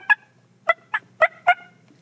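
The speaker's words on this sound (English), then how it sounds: "and then I give him the distress call" Five sharp, loud turkey yelps sounded on a Quaker Boy turkey call as a distress call, spaced irregularly against near silence.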